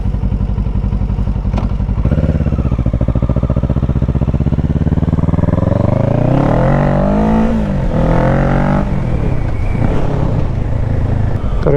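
A 2023 Kawasaki Ninja 650 with a chipped, leaking radiator riding around town, its engine droning loud and close with steady revs that climb and shift through gears, wind rushing over the top.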